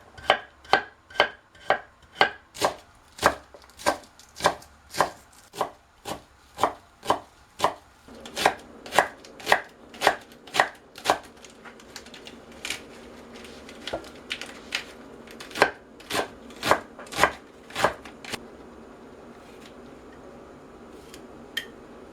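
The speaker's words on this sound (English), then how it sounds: "I already washed all these vegetables, so now I will cut them." A knife chops radish and green leaves for a salad in a steady run of crisp, evenly spaced strokes on a board, close and clear, with a brief pause midway before the rhythmic chopping resumes; no one speaks.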